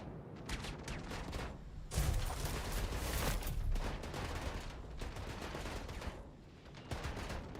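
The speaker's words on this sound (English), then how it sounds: "it's a turret that's shooting me" Sustained rapid turret gunfire in a multiplayer video game, dense overlapping bursts of shots that run loud and continuous throughout, with heavier impacts swelling around the middle.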